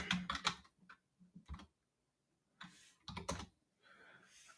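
Computer keyboard typing with a Control P shortcut, quick bursts of crisp key clicks separated by short pauses, close and clear in a quiet room.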